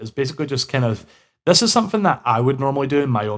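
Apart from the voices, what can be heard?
No everyday noise stands out behind the speech.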